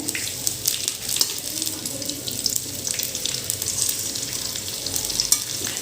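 Coconut and onion roasting in a generous amount of oil for Solapuri kala masala, giving a steady close sizzle with scraping stirs and a faint running-water wash throughout.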